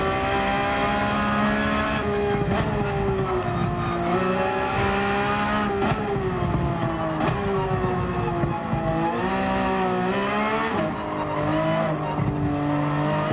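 A Porsche 911 GT3 races a lap in Gran Turismo 7, its engine wailing steadily through rising and falling gear pitches, with brief tire squeals and shifts throughout.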